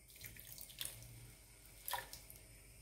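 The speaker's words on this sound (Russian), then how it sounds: "Нальем немножко воды" Water poured into a pan of caramelizing sugar splashes in short bursts, with a couple of sharper splashy surges over a steady trickle, close by and fairly quiet.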